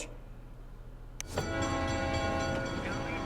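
A sharp click, then a train horn in SimCity blares and holds steadily, loud and near, over a low rumbling engine bed.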